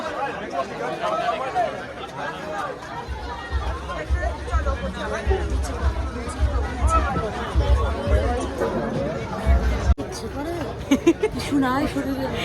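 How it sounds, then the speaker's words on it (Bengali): Dense crowd chatter fills a busy Durga Puja pandal, many voices overlapping in a continuous hubbub close around the listener, with nearby speech breaking through now and then. "একটু বেশি ভিড় হয়ে গেছিল, তো ফাইনালি আমরা ঢুকতে পেরেছি।"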